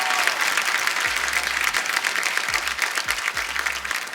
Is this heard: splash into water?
no